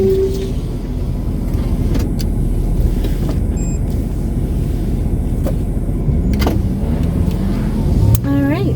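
A car rolling slowly into a small campground, steady low engine and road hum close by with a few clicks and a brief electronic chime near the end, under a voice speaking.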